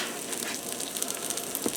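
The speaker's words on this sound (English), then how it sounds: "saute that onion for a few minutes till it starts to turn translucent and soften up" Diced onion sautéing in a hot Instant Pot, a steady close sizzling hiss with faint crackles throughout.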